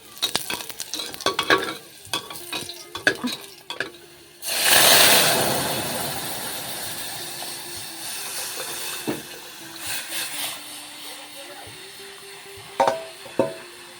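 Onion tempering poured into cooked dal in a home kitchen: a loud, hissing sizzle bursts up and slowly fades, with spoon and utensil clinks and scraping scattered before and after.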